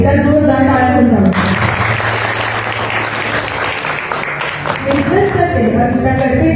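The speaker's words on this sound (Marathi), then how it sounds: "चला तर आपल्या बांधवांच्या सर्व वुमेन्ससाठी एका जोरदार टाळ्या जाऊ." A seated audience at a Women's Day event gives a loud, sustained round of applause for the women being honoured. Someone speaks before it begins and again as the clapping fades.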